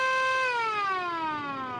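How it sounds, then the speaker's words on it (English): A siren used as a sound effect for Washington sports wails in one long, steady descending tone, loud and clear with no talking. "Here's the siren."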